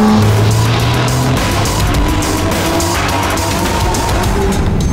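A BMW M Performance sports car engine roars and revs at high volume, with a gritty, aggressive tone and shifting pitch.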